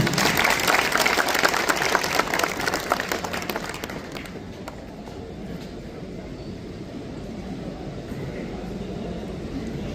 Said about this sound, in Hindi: तो उनके लिए भरपूर ताली होनी चाहिए